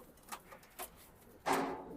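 A racing pigeon, a hen raced from Tetulia, gives a few soft, faint coos close by, then makes a brief louder rustling burst. The background is quiet.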